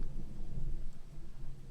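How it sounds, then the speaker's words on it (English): Low, rolling thunder during a rainstorm, a steady dull rumble with no voices over it. "There's a thunder right on cue"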